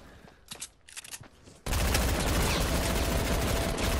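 A heavy assault rifle in Fortnite opens up after a short stretch of quieter game sounds, then a loud, continuous burst of rapid gunfire fills the rest.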